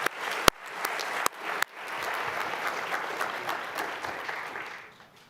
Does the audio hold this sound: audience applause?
yes